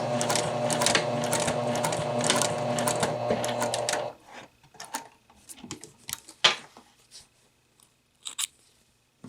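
A sewing machine runs in a steady close whir for about four seconds while back tacking at the end of a bias tape neckline facing, followed by quiet clicks and fabric handling.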